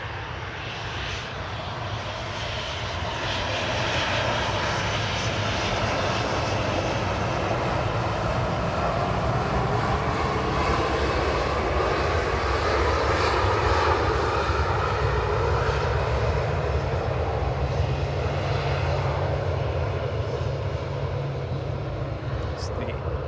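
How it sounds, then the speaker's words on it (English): Ryanair airliner from Dublin arriving at Manchester Airport, a steady roaring engine rumble that builds over the first few seconds and holds loud throughout, with voices talking over it. "The Ryanair from Dublin that arrived"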